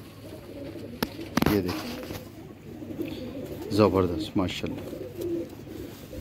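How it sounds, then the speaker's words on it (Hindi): A spotted teddy pigeon coos in low throaty bursts, near and fairly soft, while someone talks over it and other noise fills the background. "ये टैडी कबूतर है छापो वाला"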